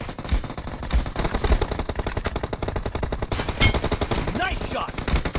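Suppressed QBZ rifle fire in the PUBG Mobile game rattles out in fast, steady automatic bursts, loud and continuous, ending with a short game sound effect.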